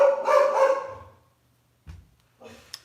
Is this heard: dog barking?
yes